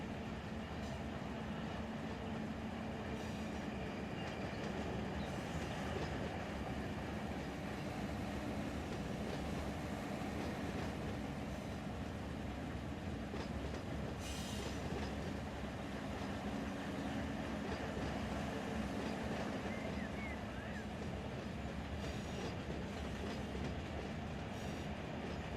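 Freight train cars rolling in the Run 8 train simulator: a steady, dense rumble with continuous clickety-clack of wheels over rail joints, sustained and close for the whole stretch.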